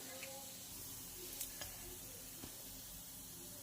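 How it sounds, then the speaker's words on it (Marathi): Bottle gourd vadis deep-frying in hot oil, giving a steady soft sizzle with faint crackles and a few small pops throughout, fairly quiet and close. "तर अशाच पद्धतीने आपण बाकीच्या सुद्धा फ्राय करून घेणार आहोत"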